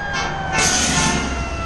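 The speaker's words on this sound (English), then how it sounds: "Dang, we got an ambulance coming." An ambulance siren wails loudly close by, its tone rising as it passes, over the rumble of traffic.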